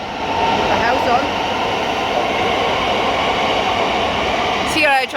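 An eight-car Thameslink Class 700 train rumbles through London St Pancras low level station, a loud steady roar of wheels and traction noise that fades with a squeal near the end.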